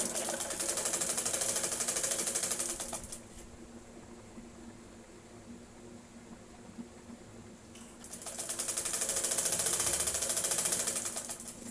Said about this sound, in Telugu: దీన్ని కుడుతున్నాను చూడండి హ్యాండ్ డబల్ కుట్టు వేస్తున్నాను